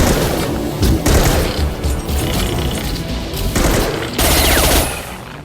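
Rapid automatic gunfire in the Mass Effect 2 video game, loud bursts of shots that pause and then resume, with booming impacts close by.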